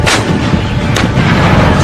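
Automatic cannon firing from a military vehicle, loud booming shots in quick succession, close and forceful over a rumbling background.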